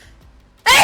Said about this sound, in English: Oh no, are you constantly sneezing?